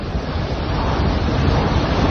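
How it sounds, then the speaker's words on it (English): Typhoon-driven storm waves crash against a Philippine shore in a loud, dense, unbroken roar of surf mixed with buffeting wind, with no voices. "fierce winds and heavy rain pummeled coastal communities, with towering waves crashing against the shore"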